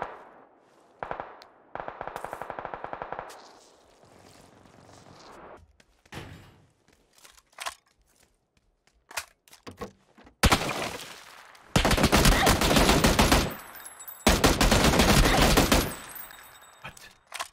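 Bursts of video game gunfire around an M24 rifle: sharp single shots early, then long dense rattling volleys of rapid fire, loud and close, separated by short quieter gaps.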